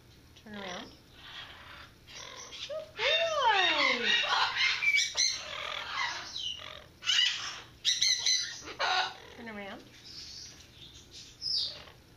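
A pet bird gives loud, harsh squawks and chirps in repeated bursts throughout, close by, with a person's voice speaking between the calls.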